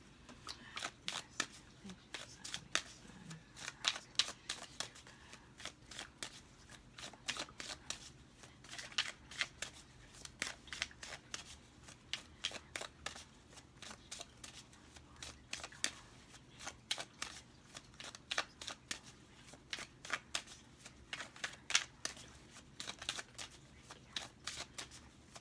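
Tarot cards are shuffled repeatedly in quick, crisp riffling bursts, close and fairly quiet, with brief pauses between rounds.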